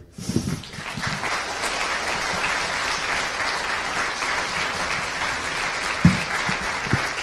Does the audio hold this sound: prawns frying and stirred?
no